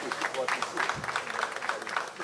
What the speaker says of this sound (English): let's give yourselves a round of applause for this morning